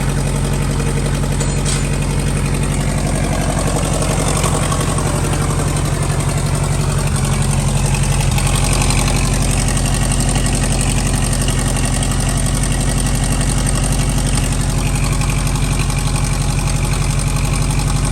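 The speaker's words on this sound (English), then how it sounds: "I cranked it for 2 seconds the next day, and now it's running" A 1940 Cadillac 60 Series barn-find engine idles steadily and loud throughout, a continuous low rumble with a faint knocking beat.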